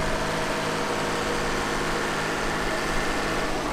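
A 1950-T Oliver tractor engine runs at high revs to raise an auger on a farm, a steady, loud, dense mechanical roar with no talking.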